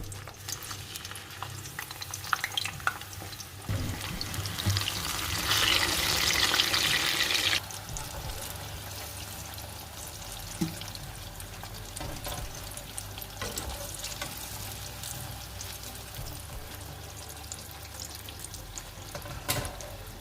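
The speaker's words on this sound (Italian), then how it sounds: "possiamo cominciare a friggere le melanzane" Steady sizzling of eggplant slices frying in hot oil, with a louder crackling burst partway through and occasional clinks and stirring sounds.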